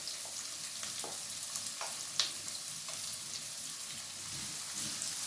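Chopped onion frying in a pan for menudo, a steady close sizzle with a few soft stirring scrapes and small crackles, with no talk over it.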